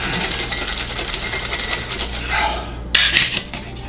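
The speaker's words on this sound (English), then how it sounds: "Seal it up and shake to thicken the cream again" Heavy cream is shaken in a metal cocktail shaker, a steady rapid rattle of liquid and metal that ends in a few sharp clanks near the end.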